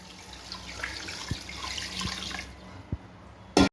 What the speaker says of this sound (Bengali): এবার যতটা ঝোল হবে বন্ধুরা ততটাই আমি জল দিয়ে দেবো